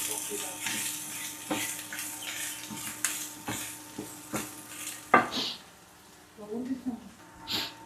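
Cinnamon, cloves, bay leaf and cardamom sizzle in hot oil over a low flame for a beef curry, a steady close frying hiss broken by light stirring taps, with a voice speaking over it.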